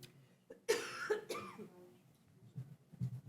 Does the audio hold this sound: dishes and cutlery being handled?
no